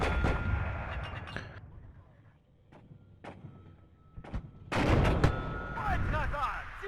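Mortar and artillery fire in the real-time strategy game WARNO, with sharp booming impacts scattered across the clip and a dense, loud barrage near the end, mixed with battle noise.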